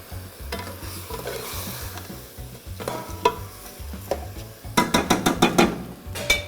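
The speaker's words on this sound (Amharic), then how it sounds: "ለትንሽ ደቂቃ ከስጋው ጋር ካገናኘሁት በኋላ ምን አደርጋለሁ?" Rice stirred and fried with lamb meat in a pot gives a continuous sizzle with a rhythmic scraping of a spoon, followed by a quick burst of loud metallic clanks and knocks against the pan.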